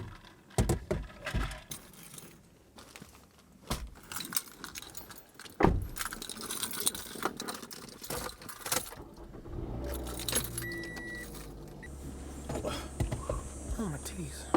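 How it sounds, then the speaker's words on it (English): Dropped keys jangling with sharp metallic clinks, among scattered knocks and a car's engine near an errand stop, with people talking. "I dropped my keys."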